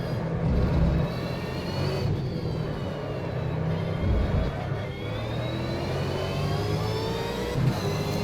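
Cam Waters' Monster Energy Ford Falcon V8 Supercar at Pukekohe, its engine droning loud and steady, with rising and falling pitch sweeps of revving across the lap and brief surges near the start and end.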